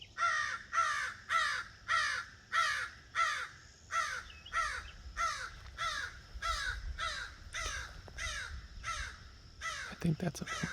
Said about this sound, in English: I think that's a morning crow.